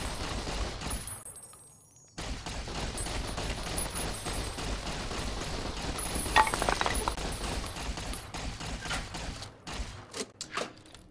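Laser weapon fire from enemies in Fallout: New Vegas Old World Blues, a continuous crackling barrage of shots with brief pauses, moderately loud and dense, with a sudden cutoff and a few sharp final shots near the end.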